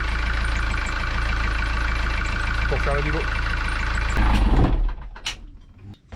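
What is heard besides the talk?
Beta Marine 50-hour marine engine running and warming up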